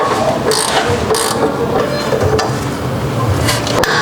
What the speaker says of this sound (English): you want to use a ratcheting wrench and a regular wrench just so that way it doesn't spin